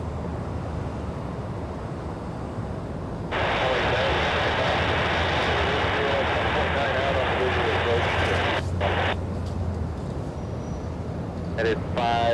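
An Airbus A380 jet roars on departure from LAX at night, a broad steady engine rumble that swells after a few seconds and holds loud throughout, with brief radio chatter and a voice underneath.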